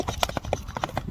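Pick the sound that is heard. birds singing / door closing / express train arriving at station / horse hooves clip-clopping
horse hooves clip-clopping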